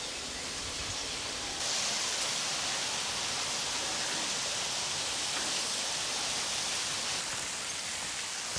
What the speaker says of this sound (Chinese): 这旁边还有一条纯天然的瀑布。